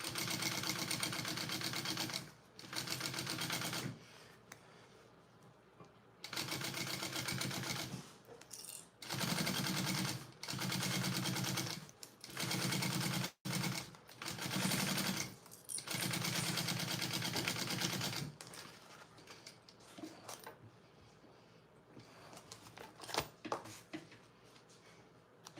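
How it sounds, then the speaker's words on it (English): A sewing machine stitches stiff Peltex stabilizer onto the bottom piece of a handmade bag in close, loud bursts of rapid stitching separated by short pauses. "I will be sewing a piece of Peltex onto the bottom of this"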